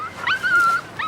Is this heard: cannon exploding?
no